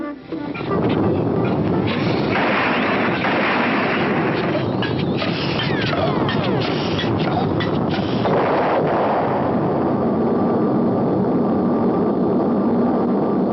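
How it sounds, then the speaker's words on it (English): A cartoon rocket takes off with a loud, steady rushing roar that swells in almost at once and holds throughout, dense and rumbling with whooshing texture. "What a takeoff! Still accelerating."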